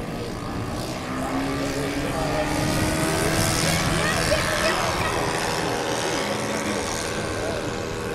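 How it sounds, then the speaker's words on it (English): Twin propeller engines of a big scratch-built RC model of a Dornier twin-engine bomber droning steadily at a flight line, a continuous moderate hum throughout with a voice talking over it. "getting ready to take off on from flight line number 4 is Al Kretz's big Dornier twin-engine bomber"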